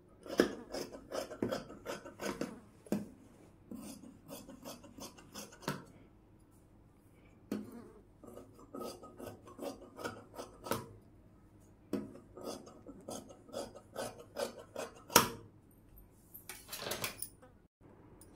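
Scissors snip through silk frock fabric in a series of sharp crisp cuts, some in quick clusters and some spaced apart, close and fairly quiet, with no talking.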